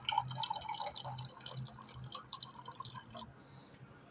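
Water is poured to fill half a drinking glass, a quick run of bright liquid trickles and drips close by, fairly soft, with a brief higher gurgle near the end and no talking.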